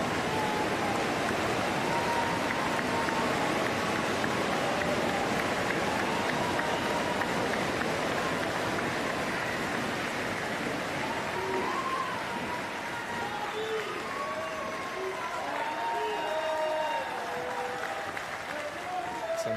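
Sustained applause and cheering from a crowd at the Paris Paralympic Games para table tennis arena after Brazil takes a doubles bronze, dense steady clapping filling the space with a commentator talking over it.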